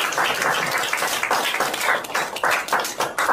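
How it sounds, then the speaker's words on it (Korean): Congregation clapping at a Korean church founding service, a full, close burst of applause with a slightly rhythmic, pulsing beat lasting a few seconds. "박수하겠습니다."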